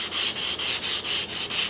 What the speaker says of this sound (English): I can do the same thing with some really fine sandpaper